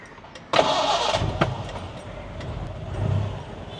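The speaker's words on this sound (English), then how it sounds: "Ensure it's in neutral and starting the car." A Premier Padmini car cranks and fires up, with a sharp start burst followed by a rough, settling idle. The engine is close and clear, and no one talks over it.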